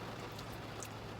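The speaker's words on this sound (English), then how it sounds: "it's super raining" Steady, dense rain falling outside on a warm, humid day, a constant even hiss with no breaks and no voices over it.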